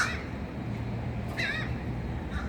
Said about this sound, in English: I'm making bird friends.